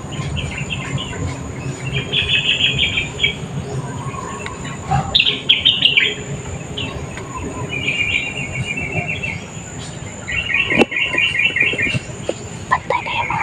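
Birds chirp outdoors in short repeated bursts of high tweets, layered over a steady insect-like trill and a low background rumble, with some faint voices in the distance.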